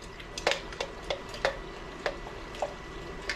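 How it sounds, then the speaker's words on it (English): A utensil stirs a pickle brine of water, vinegar, peppercorns and garlic in a pot, giving a series of soft, regular taps and clinks against the pan with a faint liquid swish, close and quiet. "Give it another stir."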